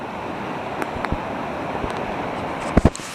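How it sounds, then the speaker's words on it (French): Water rushing below an old dam near Saint-Brieuc, a steady broad roar with a few scattered knocks and splashes near the end, and no voices. "Vous voyez, il y a beaucoup d'eau."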